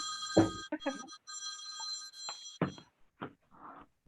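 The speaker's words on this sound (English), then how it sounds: "All my clocks are going on." Several clocks chime the hour at once, their sustained ringing tones layered and fairly quiet while people talk over them nearby.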